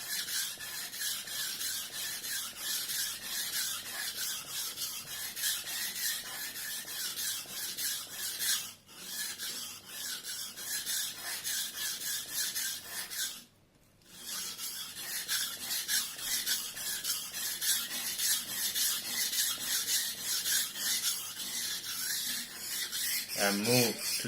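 Steady push-and-pull strokes of a knife blade across a SUEHIRO combo #200/#1000 splash-and-go whetstone, a continuous gritty rasp repeating evenly for the whole stretch, with two brief pauses and a short squeak at the end.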